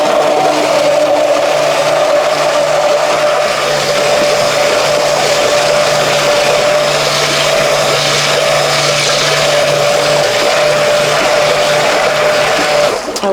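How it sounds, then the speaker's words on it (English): Steady, loud motorized whir of a blender mixing ginger-scented Oberhasli goat milk soap batter, running continuously without pause for the whole stretch and cutting off at the very end, with no talking. "we'll get this blended up and ready for our mold"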